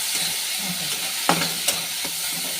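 Onion-tomato masala with garlic paste fries in oil in a pan, giving a close, steady sizzle broken by a few sharp spatula knocks as it is stirred.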